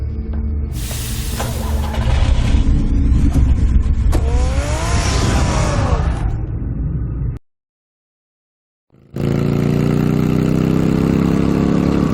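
A car engine runs loud and close in the Batman Telltale game, a steady mechanical drone with hissing, then a short silence before it resumes.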